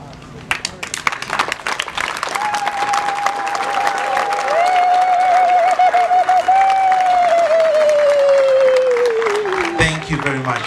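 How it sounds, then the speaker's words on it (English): A standing graduation audience at a seminary applauds, dense clapping building and holding loud for several seconds while a voice sings or calls out over it. "please stand and give a big round of applause to the Rector"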